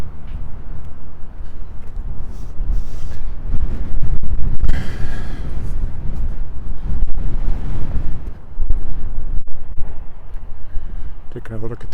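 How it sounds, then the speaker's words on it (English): Strong wind roars into the microphone beside a creek on a March walk in Regina, a loud, continuous buffeting rumble with gusty swells throughout. "The wind is quite strong."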